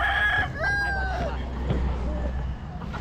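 A rooster crows nearby, one drawn-out call with a rising and falling tail, while people chat in Filipino in the background.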